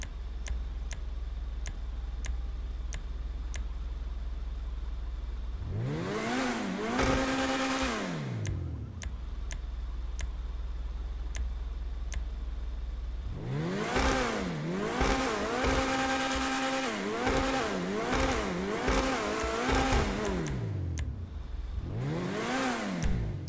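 A car engine in a GTA game revs hard in repeated rising and falling sweeps, with a quiet idle and regular ticks between the bursts. No one speaks.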